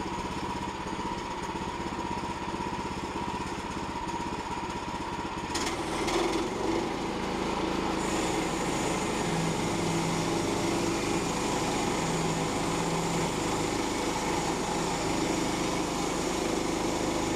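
A sawmill runs as it cuts through a log, with a loud, continuous mechanical roar whose pitch and texture shift partway through as the blade works the wood.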